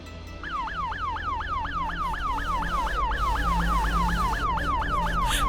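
A police car siren wails in a steady, rapid up-and-down cycle, loud and alone, with a low engine hum beneath it throughout.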